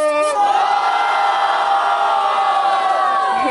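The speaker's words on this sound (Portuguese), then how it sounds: "Barulho pra quem gostou das rimas de Pedro do Busão!" A loud crowd roars, whoops and shouts continuously during audience voting at the grand final of the Batalha da Leste rap battle, close and sustained throughout.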